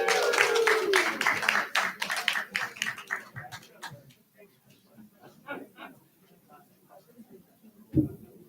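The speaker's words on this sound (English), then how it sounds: "how about a round of applause for our song team?" Audience applause and clapping for a church song team at a service, dense and loud at first, then thinning into scattered claps that fade out with some talk over them.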